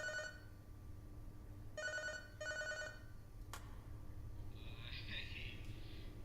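Telephone ringing in the video game Five Nights at Darl's 2, three electronic rings in a steady pattern, followed by a click and a faint buzzing tone.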